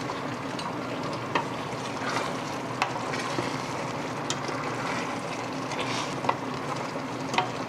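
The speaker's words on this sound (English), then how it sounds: "So we're going to pop the prawns into our sauce. A quick stir." Prawns cook in a chilli, tomato, onion and garlic sauce with a steady moderate sizzle and bubbling, while spoons stirring the pan give occasional sharp clicks and taps throughout.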